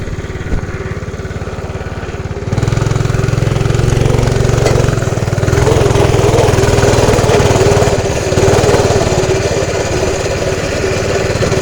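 A dirt bike engine on a trail, starting at a low idle and then rising to a loud, steady, buzzing run that stays close and continuous, with no talk.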